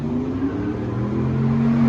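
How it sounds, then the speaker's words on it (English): Cars revving and accelerating away from a traffic light, a steady loud engine drone with rising tones throughout, close by and without talk. "Man, everybody thinks they got to race at the light."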